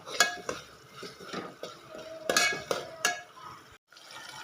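A spiced vegetable mixture sautéed in a pan for a Marathi sprouted moth-bean bhaji, spatula scraping and clinking against metal in irregular strokes over a soft sizzle of oil.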